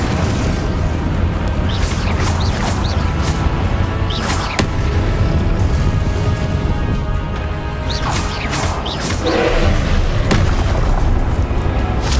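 Spell explosions in Hogwarts Legacy: continuous loud combat noise with heavy booms and crashing impacts layered over a constant low rumble, several sharp bursts standing out, no clear talk.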